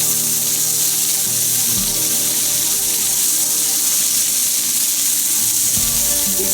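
Onions frying in a hot pan over lowered heat for Tanzanian fish curry give a steady, close, even sizzling hiss that runs unbroken throughout, with faint tonal background sound beneath it.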